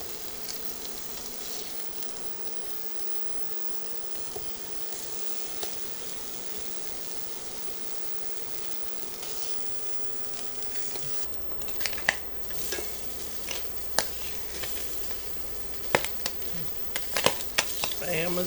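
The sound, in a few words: Spam slices frying and popping in butter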